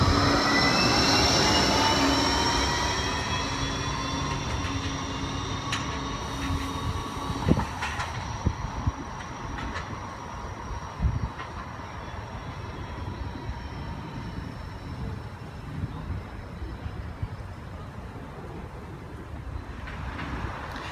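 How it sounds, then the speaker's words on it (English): A G:link light rail tram departs Nerang Street station, its electric motor whining as it pulls away, with wheel squeal and fading rumble as it recedes, plus occasional clacks over the rails. "G-Link 13 now departing for the University Hospital."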